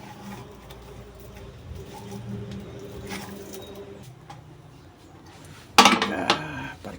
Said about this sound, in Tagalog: Kukuhain ko muna yung takuri